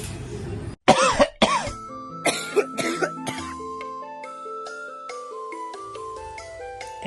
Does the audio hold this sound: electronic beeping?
no